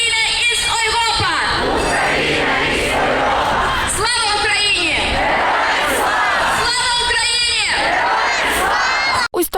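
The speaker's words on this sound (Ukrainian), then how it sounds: "у німецькому кельні вигукували тисячі мітингувальників" Thousands of protesters at a rally in Cologne chant in loud, rhythmic unison, the massed voices rising in repeated waves every couple of seconds and filling the whole stretch.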